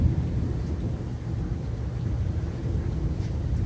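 Thunder rolling during a storm in Oklahoma, a broad, deep rumble sustained evenly across the whole stretch, loud and without clear claps, no voices.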